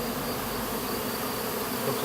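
A honeybee swarm hums in a steady, dense drone of many wings, continuous and even throughout with no talking.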